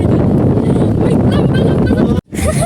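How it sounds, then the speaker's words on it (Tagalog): A gust of wind at an outdoor amusement park buffets the microphone with loud, rumbling noise, cut off briefly near the end before returning. "Ayun na naman yung hangin!"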